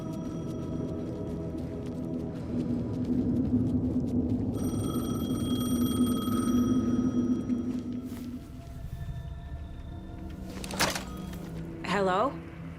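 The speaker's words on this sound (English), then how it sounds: "The payphone was ringing." A payphone rings in the video game Alan Wake 2, its repeated electronic trills sounding over a steady low ambient rumble, with the ringing most distinct toward the end.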